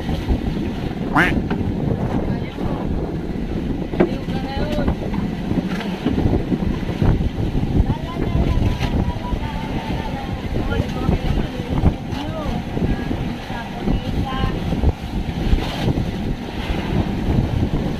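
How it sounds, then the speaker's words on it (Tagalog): Steady wind buffeting the microphone on a fishing boat on the Pacific Ocean, with rumbling water and engine noise and occasional voices underneath. "Mahangin."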